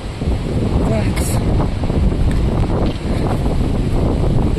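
Strong mountain wind in the Amanauz Gorge, Dombay, roars steadily into the microphone, buffeting with a constant low rumble throughout.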